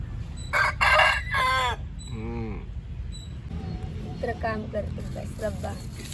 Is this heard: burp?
no